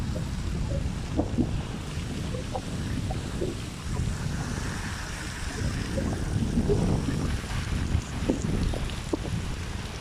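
Water of the Hacı Ahmet stream in Balçova rushes steadily and close by, a dense continuous roar with small splashy bursts now and then.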